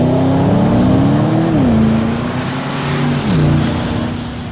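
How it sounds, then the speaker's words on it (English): A Porsche Panamera Turbo S lapping a race track, its engine note loud and close, climbing in pitch through the gears with two clear drops at upshifts, steady and without talk. "It was great fun to drive the new Panamera Turbo S"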